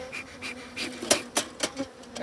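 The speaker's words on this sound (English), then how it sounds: "We can scoop some more bees out." Close buzzing of honeybees at an opened hive with several swelling, rising buzzes as individual bees fly near, over a low background hum.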